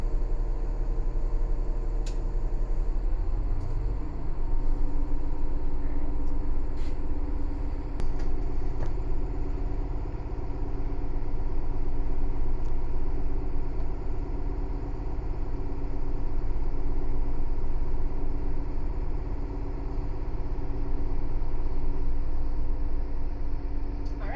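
New Flyer bus diesel engine stepping up from idle to fast idle, a low steady hum that shifts pitch a few seconds in, then holds a constant drone with occasional light ticks and clicks.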